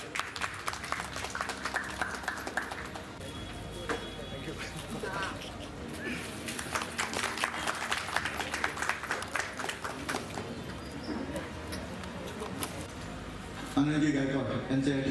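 Audience at a Shahapur anniversary celebration gives a warm round of clapping, a continuous crowd patter running throughout, with voices mixed in underneath and a louder burst near the end.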